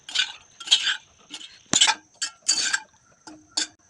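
Butter puttu being mixed by hand in a bowl, with a series of soft clinks, scrapes and rustling stirs in an irregular rhythm, close and moderately loud, no talking.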